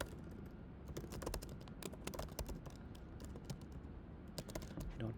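Fingers type on a computer keyboard in quick irregular bursts of light clicks, soft and close, with no voice over them.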